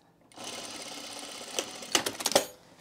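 A sewing machine stitches a quarter-inch seam in fabric for a Reynolds Top garment, running in a steady close whir that ends in a few sharp, quick clicks.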